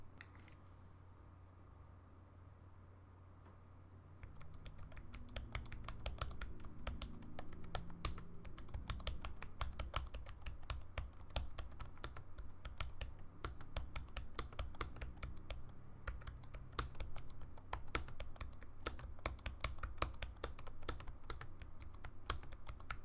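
A Kolude KD-K2 aluminum keyboard is typed on after a few seconds of quiet, producing fast, continuous, close-up key clicks and clacks with no talking.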